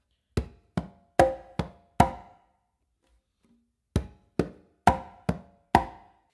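A conga clave pattern of close slaps, bass tones and finger strokes plays as two matching phrases of five dry hand strokes, each separated by a short pause, close and moderately loud with no talking.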